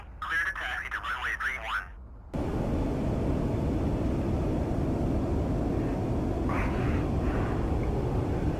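In the DCS flight simulator, a Mirage 2000C jet taxis toward the runway with a constant, broad engine rumble and hiss, loud and steady, after a brief burst of radio-style voice chatter at the start.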